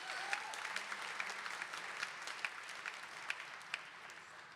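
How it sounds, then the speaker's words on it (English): Audience applause at a high school spring band concert, faint and distant in a hall, a steady wash of clapping with a few sharper individual claps standing out. "give him a round of applause"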